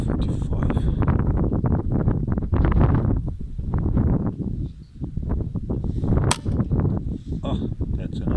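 Strong gusty wind buffets the microphone with loud low rumbling during dairy farm pest control, and a single sharp rifle shot cracks out near the middle, partly masked by the wind roar.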